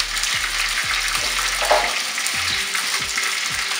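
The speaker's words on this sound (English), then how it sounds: "it's simple and easy to fry lobster" Lobster pieces fry in hot oil with a steady, dense crackling sizzle that stays loud and even throughout, close up and without talk.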